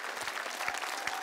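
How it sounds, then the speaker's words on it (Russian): A studio audience on a Russian TV singing show claps steadily in a dense, even wash of applause, with a few sharper individual claps standing out through the short burst. "Сотня вам аплодирует"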